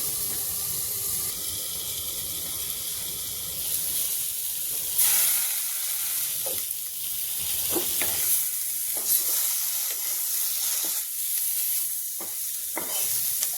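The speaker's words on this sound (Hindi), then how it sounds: "हमें इतना इसको भूनना है कि लहसुन लाल हो जाए" Garlic frying in a pan for a kundru (ivy gourd) curry, a steady close sizzle and hiss with scraping stirs of a spoon recurring throughout, no voices.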